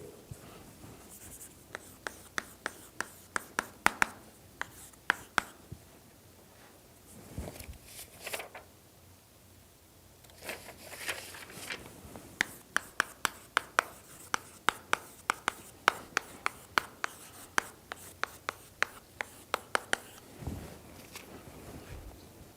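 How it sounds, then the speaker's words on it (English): Pen or chalk writing by hand during a mathematics lecture on partial differential equations, a steady series of sharp taps and scratchy strokes in irregular bursts, fairly close, with short pauses between lines. "So now, let me actually write here."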